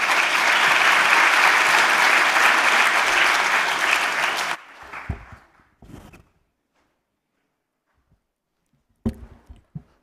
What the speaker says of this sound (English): Can we have a warm round of applause for Jessica Alupu?